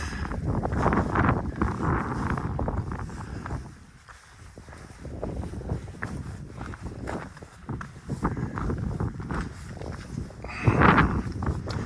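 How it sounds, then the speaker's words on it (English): Gusty wind on an Appalachian Trail mountain path buffets the microphone in rolling surges, with footsteps crunching along beneath it and a strong blast near the end. "Wind's just a little breezy down here."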